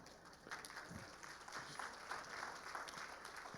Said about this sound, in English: I don't know why we're applauding.